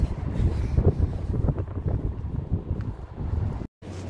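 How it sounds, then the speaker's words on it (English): Wind rumbles across the microphone in an uneven, blustery rush, with brief gusty swells and a short dropout near the end. "Just a little bit windy."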